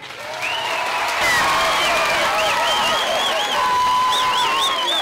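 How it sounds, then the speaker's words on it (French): Audience applauding the president at a gathering, a loud, steady wash of clapping and crowd noise that builds and holds for several seconds, with whistles or shouted voices rising above it. "Je demande pour nous applaudir le président très fort."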